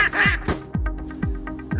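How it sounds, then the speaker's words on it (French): Farm ducks quack in a quick series of loud, close calls, about four or five sharp nasal quacks spaced roughly half a second apart, with a brief noisy rustle at the start. "de véritables canards que nous élevons dans notre coin-coin farm"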